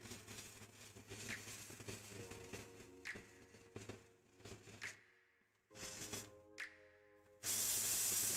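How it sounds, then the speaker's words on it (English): Short hissing bursts of an aerosol spray repeat in quick succession, fairly quiet and close, separated by brief pauses before a longer final spray. "I'm going to spray it again from this angle."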